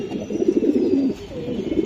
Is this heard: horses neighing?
no